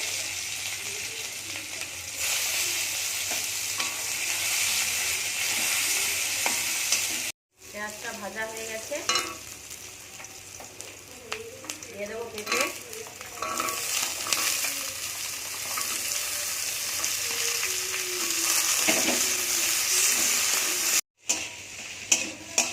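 Chopped onion frying in hot mustard oil with five-spice seeds in a wok, a steady loud sizzle running throughout, broken by two brief cuts and occasional stirring clinks.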